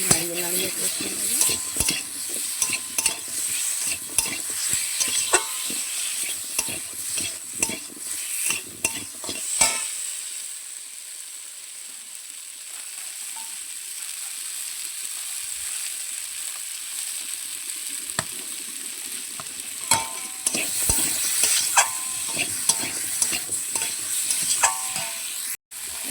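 Thick-cut potatoes frying in a little oil in a pan for a home-style curry, with a steady close sizzle broken by repeated scraping stirs of a utensil against the pan, no voices.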